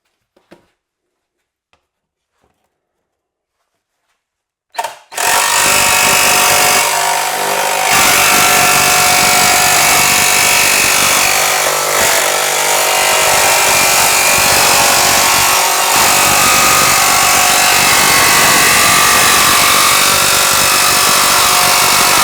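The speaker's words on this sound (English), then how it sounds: "We can take a couple of passes to get it nice and neat to straighten it up using the jigsaw." A jigsaw cuts a cockpit cubby panel for a Factory Five MK4 Roadster kit car. After a few faint taps, the saw starts at about five seconds and runs loud and continuous up close, with slight changes in pitch as it cuts.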